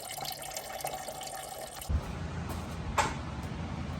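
Coolant draining from the radiator of a 2013 Honda CR-V, a close trickle of liquid that shifts to a deeper, fuller splashing flow partway through, with a small knock near the end.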